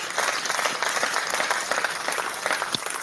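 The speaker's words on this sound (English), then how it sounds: "deserves a hand of applause" An audience applauding at a formal gathering: sustained, moderately distant clapping of many hands, steady throughout with scattered louder claps.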